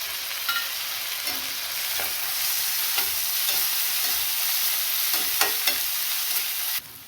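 Finely chopped tomato with ginger and garlic fries in a pan, a continuous close sizzle punctuated by several sharp scraping clicks of stirring, ending abruptly, with no speech.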